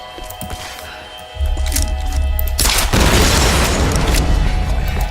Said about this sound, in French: Explosion gratuite